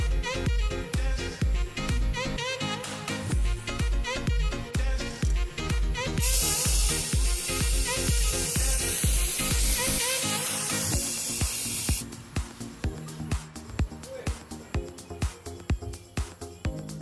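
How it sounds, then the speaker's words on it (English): A loud hiss of spray paint in one steady burst of several seconds, set between stretches of rhythmic background music. "I will be spraying this"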